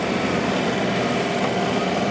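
A tractor with a loader-mounted rotary cutter mows brush and tree limbs, giving a steady, broadband engine and blade roar that holds at a constant level for the whole stretch, with no talk over it.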